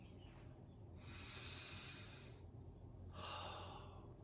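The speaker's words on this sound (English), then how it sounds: "ask any person to take a deep breath" A person takes slow, deep breaths through the mouth, two long airy inhalation swells separated by a pause, quiet and close, with no talking.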